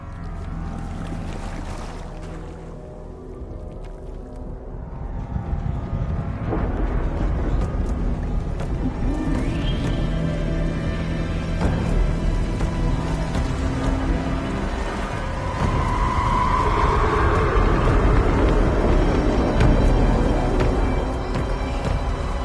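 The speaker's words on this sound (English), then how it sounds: "Got very windy." Wind blowing in the video game Alan Wake 2: a loud, steady roaring gust that swells and rumbles throughout, with no talking.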